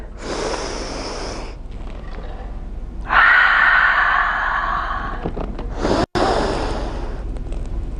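Deep breaths during a reformer Pilates rowing exercise, with a loud exhale, a pause, then another long breath through the nose or mouth followed by a third, close and alone with no talk.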